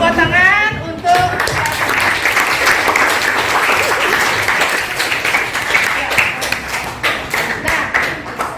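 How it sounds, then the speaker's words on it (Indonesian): A classroom of schoolchildren bursting into applause, loud dense clapping that sets in after a brief voice and carries on steadily with sharp scattered claps near the end. "Tepuk tangan untuk"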